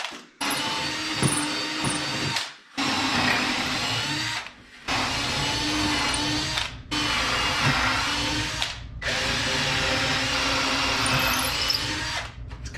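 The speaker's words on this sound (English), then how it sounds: "Now I'm going to drill down through here to attach this up through to the top" A power drill whines loudly in long bursts, boring steadily into wine barrel wood for lag bolts, pausing briefly between runs, close up with no talking.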